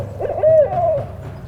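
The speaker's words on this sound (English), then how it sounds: "But I heard an owl." An owl gives a single clear, slightly wavering hoot in a backyard, fairly close and alone over a low background hum, with no talking.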